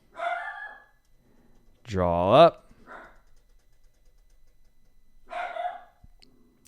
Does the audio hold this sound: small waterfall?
no